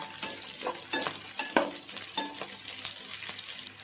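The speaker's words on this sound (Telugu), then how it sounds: "కట్ చేసుకొని ఇవి కూడా ఫ్రై చేసుకోండి ఇప్పుడు ఇట్లా మంచిగా ఫ్రై చేసుకోండి" Sliced green chillies fry with onions in hot oil for veg biryani, a steady close sizzle with brief stirring scrapes and occasional louder crackles, no talking.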